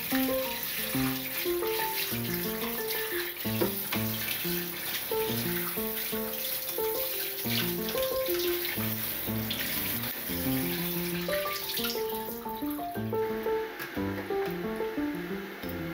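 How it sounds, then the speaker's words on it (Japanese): Tap water runs steadily at a kitchen sink while seasoning is rinsed off food, a constant close splashing stream heard under music with a melody. "表面の調味料を流水で洗い流す"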